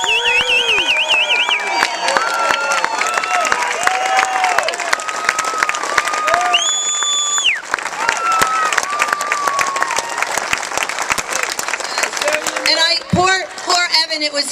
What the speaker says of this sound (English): please give a huge round of applause and lots of love for my boys